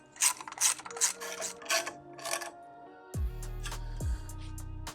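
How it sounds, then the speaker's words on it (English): A ratchet wrench tightens bolts on a Loppet 60 TRAKOR chassis hitch plate, with several quick bursts of clicking, then a lower, grinding run of ratcheting, close up and alone. "Then I'm going to tighten on one side, and I want to tighten the other to help it keep it from shifting."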